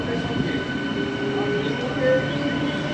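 An inaugural special train on the Amghata to Krishnanagar line rumbles past close by, a steady rolling clatter of wheels and carriages with faint tonal squeals, and a voice murmuring faintly.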